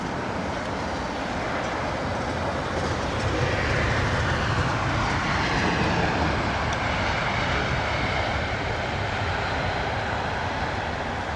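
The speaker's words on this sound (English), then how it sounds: "Jerry is departing on the big old British Airways A380. We're under BA207 this morning, which is now taxiing out of the gate" British Airways A380 taxiing out from the gate at London Heathrow, a broad steady engine roar and rumble at a moderate distance, continuous and fairly loud with no voices over it.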